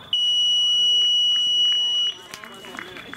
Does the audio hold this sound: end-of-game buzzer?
yes